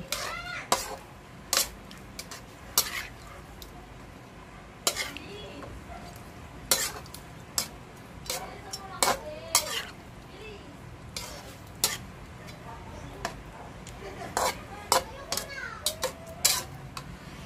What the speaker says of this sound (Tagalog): Then, haluin lang natin.